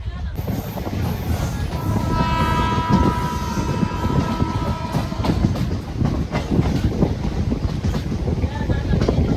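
The Guruvayur-Madurai Express rolls along its rails with a loud, continuous rumble and clickety-clack, heard from on board with wind buffeting the microphone as the train picks up speed.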